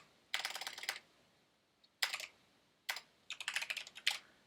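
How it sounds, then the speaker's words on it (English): Rapid bursts of typing on a mechanical computer keyboard, close and crisp, in three or four clusters of clacking keys separated by short quiet pauses. "This mechanical keyboard is so sensitive."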